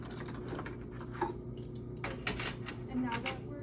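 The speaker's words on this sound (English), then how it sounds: "And let's go ahead and grab some silverware out of the drawer." Clinking metal silverware lifted out of a kitchen drawer, a few light rattles and taps spread across a few seconds over faint background hum.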